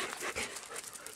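A golden retriever begging for lunch breathes in quick, close panting bursts mixed with soft whimpers.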